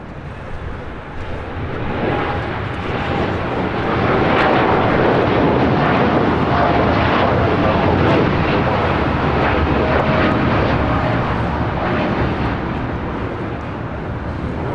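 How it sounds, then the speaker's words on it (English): A United Airlines Boeing 787-10 Dreamliner rolls down runway 25 right at LAX, a broad jet roar swelling from moderate to loud and holding steady before easing slightly. "Got a United Dreamliner now rolling down."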